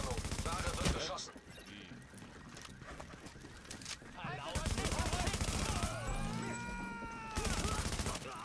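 Gunfire from the video game The Division, with rapid bursts and shots running through the clip, loud and busy with other game noise and effects layered in.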